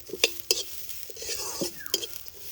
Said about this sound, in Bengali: এবারে চালটাকে না ভেজে নেব।